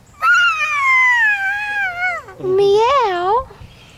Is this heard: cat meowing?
yes